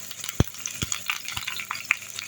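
Vegetables and peppers fry in a pan while a utensil stirs them, giving a few sharp scraping knocks over a soft, crackling fry.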